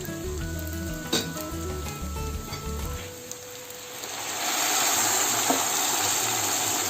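Water poured into a pot of toasted orzo and rice sets off a broad, rushing sizzle that swells and grows louder partway through, following a calmer stretch with faint tonal background sound.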